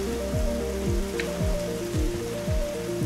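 Rain falling in the video game Dig or Die, a steady dense hiss of rain on surfaces under a looping background music track with a regular rhythmic pattern.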